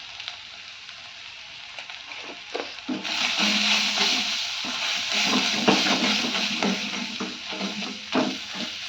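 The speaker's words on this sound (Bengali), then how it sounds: "তেল যতক্ষণে না বেরোয় ততটাক্ষণ ভাজবো" Spice paste with salt and turmeric frying in oil for a Bengali pointed gourd and prawn curry in coconut milk: a steady close sizzle with scraping stirs, growing louder and denser after the first few seconds.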